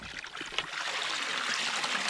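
Spring water pours from a fountain spout beside a stream where livestock drink, a steady, close, hissing splash that continues evenly, preceded by a few brief knocks.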